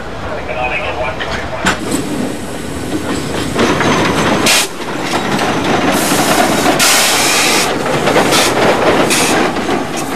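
Uncoupled railway wagons roll over the hump in a marshalling yard with a continuous heavy rumble and clatter of wheels on rails, broken by loud bursts of hissing and squealing.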